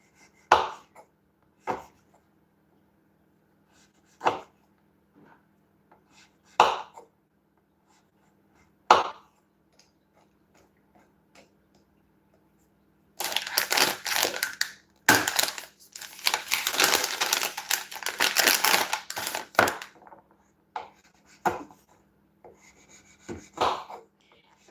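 Food being chopped for spaghetti in tomato sauce: single knife strikes on a wooden board every couple of seconds, then a dense run of rapid chopping and scraping, close and clear, without speech.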